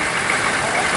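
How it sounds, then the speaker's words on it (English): An M923A1 American 6x6 military truck with a 14-litre diesel engine idles at a military vehicle parade at the Great Dorset Steam Fair, giving a brief, steady, close rumble with a voice talking over it. "American 6x6 truck. This one's particularly 14-litre diesel engine."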